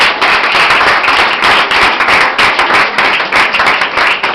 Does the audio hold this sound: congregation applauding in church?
yes